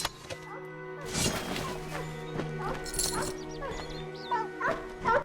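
Wolves in the fantasy action game Kingdoms of Amalur Re-Reckoning yelp and bark in short bursts over combat thuds and game noise, with a voice speaking through part of it.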